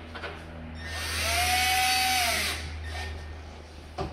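A power drill driving screws into a door lock whirs up to a high-pitched whine for a couple of seconds, then spins down, with brief quieter whirs before and after.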